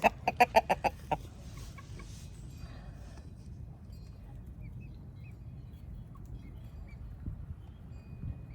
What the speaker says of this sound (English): Let's just watch the little chickens.